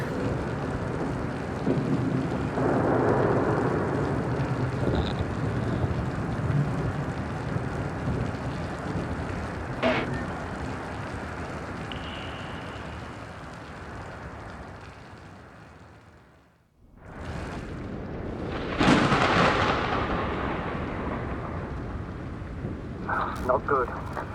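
Thunder rumbles under steady rain in the video game The Invincible, a raging storm with broad roaring noise, a sharp crack partway through, a brief lull, then a renewed loud surge.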